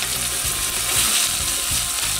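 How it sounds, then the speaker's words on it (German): Small onions dropped into already hot fat for an Indian-style tomato soup fry with a dense, even sizzle and crackle, close and steady throughout with faint stirring clatter underneath. "Als erstes gebe ich dann mal die Zwiebelchen hier rein."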